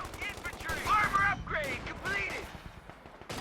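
Video-game battle as an M20 armored car fires on a retreating Grenadier squad: bursts of rapid machine-gun fire under a commentator's continuous talk.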